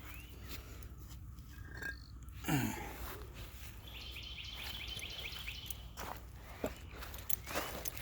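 Outdoor ambience with scattered bird calls and chirps, including a repeated trilling song midway, over steady background noise and a few rustling footsteps.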